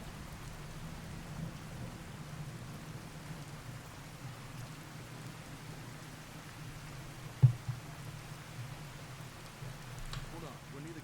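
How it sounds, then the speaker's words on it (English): Steady rain with a low rumble of thunder in the video game Fallout 4, a continuous wash of rainfall broken by a brief sharp crack near the end. "it's getting ridiculously rainy out here. And lightning-y."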